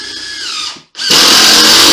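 A power screw gun drives screws into a mobile home floor. It whines loudly and close, cuts out for a split second, then spins back up at a higher, harsher pitch.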